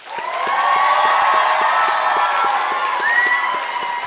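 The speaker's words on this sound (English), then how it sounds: "One final round of applause for our graduates." A winter commencement crowd gives graduates a loud, sustained ovation of clapping mixed with rising whoops and cheers, swelling after a moment and holding steady, with a few sharper claps standing out near the front.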